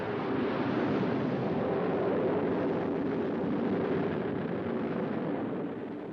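Steady, deep, roaring rumble of a sounding rocket launching into the aurora, a continuous broadband roar holding even and fairly distant for several seconds.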